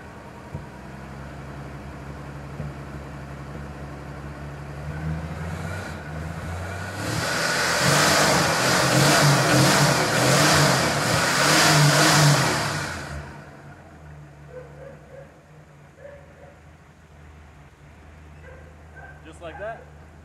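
A 1974 Ford E100 van engine runs at a low idle, then revs up loudly for several seconds around the middle before dropping back to a rough idle, with people talking and a dog barking.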